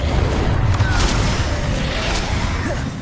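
Spell explosions from the Bombarda and Confringo curses in the Hogwarts Legacy video game on PS4, a dense continuous rumble of booming blasts and crashes, loud and close throughout with no clear gaps.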